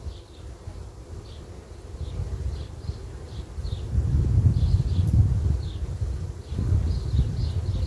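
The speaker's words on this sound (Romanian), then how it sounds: "au intrat câteva albinuțe, nu multe" Honey bees buzz around queen cages fixed on hive frames, a soft, high droning with individual bees passing close, over low rustling and handling noise that swells midway.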